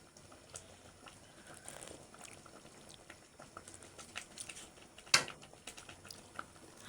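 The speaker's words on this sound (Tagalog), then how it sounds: "Ayan guys, kulong-kulo na talaga." Mung bean stew with moringa leaves boiling hard in a pot, giving a continuous soft bubbling and gurgling with one sharp knock partway through.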